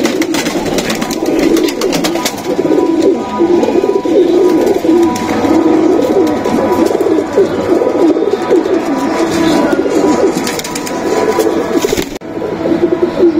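A flock of pigeons in a loft keeps up a thick, continuous cooing chorus, loud and near, with no talking.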